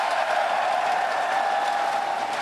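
A crowd at a League of Legends LCS esports match applauds steadily and loudly as a player arrives on stage, with a dense, even wash of clapping throughout.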